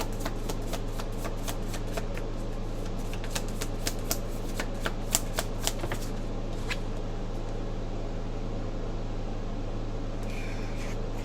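Tarot cards being shuffled, a run of crisp close riffling clicks over a constant low background hum that then fades to near quiet.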